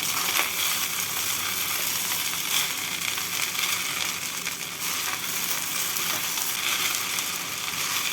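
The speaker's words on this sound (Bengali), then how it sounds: "নুন আর চিনি দিয়ে ভালো করে মিশিয়ে নিলাম" Rice fries in a pan while salt and sugar are mixed in for beresta rice, a dense, steady sizzle running close and loud without a break.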